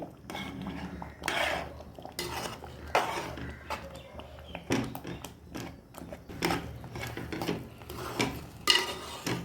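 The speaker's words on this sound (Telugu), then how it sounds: "వేస్తూ వేసేసిన తర్వాత కలుపుకోవాలండి వెంటనే కలుపుకోవాలి లేదంటే ఉండలుగా కట్టేస్తుంది" A spoon stirs upma rava in a pan, giving intermittent scraping strokes and soft metal knocks against the pan in bursts, fairly quiet and close.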